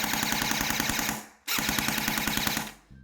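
An MP-40 replica gel blaster fires on full auto in two loud, rapid, steady bursts, each lasting about a second and a half, with a short pause between them.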